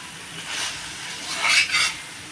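Mutton sautéing in oil in a large wok, a soft hiss with scraping stirs that swells twice, loudest near the middle, close and steady.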